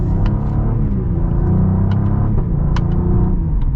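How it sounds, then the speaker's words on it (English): Cadillac CT4-V Blackwing engine heard from inside the 2023 super sedan, a steady loud low rumble with rising revs and brief higher whines, no talking. "Oh yeah, I forgot how good this engine is."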